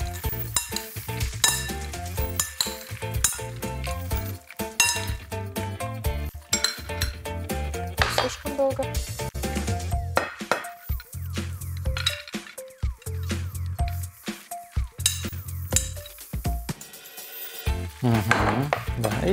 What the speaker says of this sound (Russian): Сейчас я его быстренько